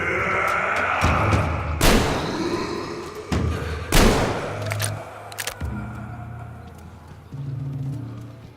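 A-Shot gunfire in Metro Exodus: heavy, close blasts spaced a second or two apart, each booming with a sharp crack and a ringing tail, over a low rumbling game ambience with faint talk.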